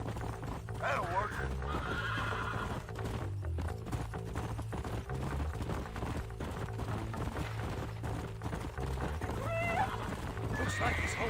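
Horses in Red Dead Redemption neigh and whinny while hooves clip-clop steadily, set under game music and characters talking.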